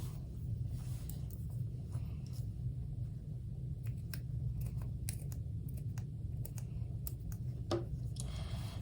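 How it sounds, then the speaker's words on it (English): Scissors snip steadily through sock fabric along a crease in a run of short, crisp cuts over a low, constant background rumble. "I found it a little easier to cut right on the crease that's already there"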